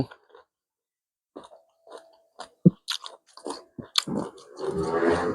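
Young green mango dipped in spicy Lao-style jaew sauce is bitten and chewed close up, with crunchy, irregular bites that get busier and louder toward the end. No one speaks.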